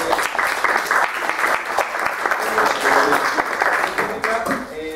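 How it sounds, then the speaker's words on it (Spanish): Enthusiastic audience applause at a university forum on access to higher education, a loud, full crowd clapping continuously with voices mixed faintly beneath. "damos un aplauso"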